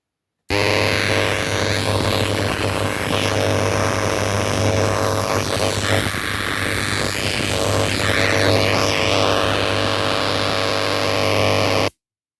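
A switched-on antenna device drawing about 110 watts gives a powerful electrical discharge, a loud continuous crackling, buzzing roar with a steady low hum that starts abruptly, holds for about eleven seconds and then cuts off.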